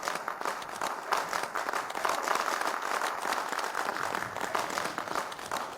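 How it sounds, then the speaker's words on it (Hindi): An audience applauds to welcome a speaker onto a stage, a continuous, even wash of many hands clapping at moderate distance that holds steady throughout. "कृपया तालियों के साथ उनका स्वागत करें"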